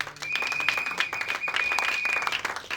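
A church congregation breaks into applause, many hands clapping in a brisk, overlapping burst that fills the room, with a sustained high electronic tone humming through the middle.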